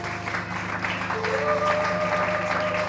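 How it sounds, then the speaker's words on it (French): A church congregation claps in praise, a full, continuous wash of hands over sustained tones that sound like music playing underneath, holding at a steady level throughout. "Applaudissons pour le Seigneur."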